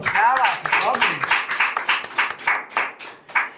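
Audience at a Hindi poetry gathering claps in quick rhythmic bursts, the claps running under a voice that speaks or recites over them.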